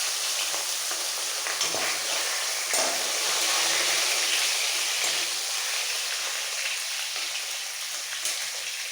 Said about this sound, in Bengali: মাছগুলো দুবারে ভেজে নেব